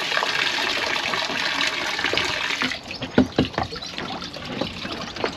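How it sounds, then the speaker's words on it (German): Water runs and trickles out of lifted water-filled POP boat fenders, a steady wash at first, then uneven splashes and drips. "Und wenn ich die hochziehe, sieht man auch, da läuft Wasser raus"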